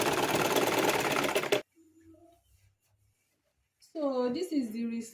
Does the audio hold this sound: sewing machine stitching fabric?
yes